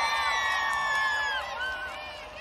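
Large festival crowd at a nighttime Exit Festival 2022 concert, cheering and whooping with shrill sustained cries, loud and continuous before easing slightly toward the end.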